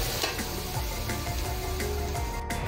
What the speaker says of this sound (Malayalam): ചൂടാക്കി ഈ ഉള്ളി നമുക്ക് ഫ്രൈ ആക്കാം